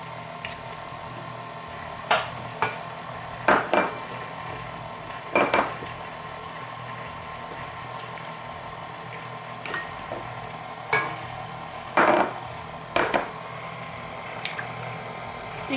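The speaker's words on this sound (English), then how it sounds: "Then we're going to put 4 eggs." Four eggs cracked into cake batter for a homemade honey bun cake: a scattering of sharp taps, clinks and wet knocks against a bowl, spaced irregularly over a steady mechanical hum.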